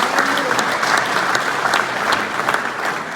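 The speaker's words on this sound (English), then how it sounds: "Give a round of applause to number 11S" Steady, dense applause from a crowd at a Shadyhill speedway year-end awards night honoring a modified-division race car driver, even and sustained throughout.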